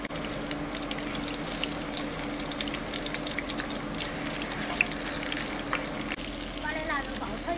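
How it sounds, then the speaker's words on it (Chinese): Cured pork (la rou) stir-fried in a wok, a steady crackling sizzle with scattered pops and light scraping of stirring, moderately loud and continuous. "把那腊肉爆炒一下"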